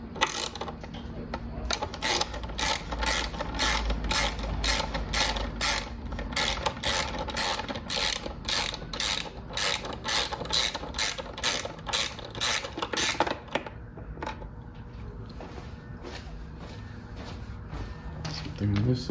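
A 5mm Allen key turns the bolts on a 2021–2023 Honda CBR/CB 650R tail section, giving a long run of quick, evenly spaced ratcheting clicks close by. The clicking stops for a quieter stretch near the end.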